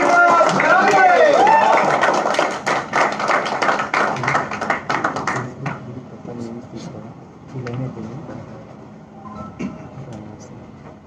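An audience in the Onpassive office in Hyderabad gives a round of applause, a dense patter of clapping for several seconds that thins out and trails off, with voices talking over it.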